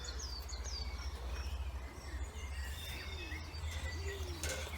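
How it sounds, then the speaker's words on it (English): Birds chirp and tweet in scattered high calls over a steady low outdoor hum, with faint insect-like buzzing throughout. "Birds are so happy this morning."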